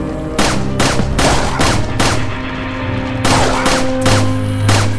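A steady series of pistol shots rings out in Resident Evil 4, each crack sharp and loud, firing roughly every half second, then a pause before more shots follow against droning game ambience.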